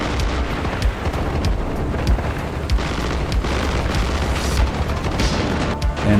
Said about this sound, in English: as I call in some more airstrikes